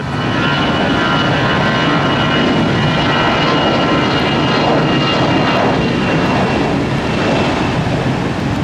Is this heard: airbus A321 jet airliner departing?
yes